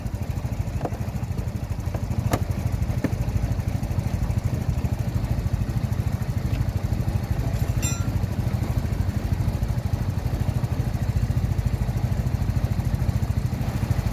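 An AJS Modena 125cc scooter engine idles steadily nearby, a low, even, puttering drone that continues unchanged throughout.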